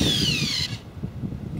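A power drill whines under load with a falling pitch while screwing a large aluminium tent peg into the ground, then cuts off abruptly, leaving quiet outdoor background noise.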